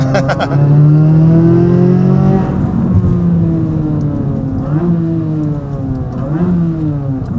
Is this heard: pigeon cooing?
no